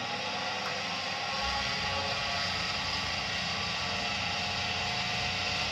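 A Viessmann Vitodens 100 WB1C wall-mounted gas boiler burning steadily after its valve was cleaned, giving an even, continuous whooshing roar at close range with no voices.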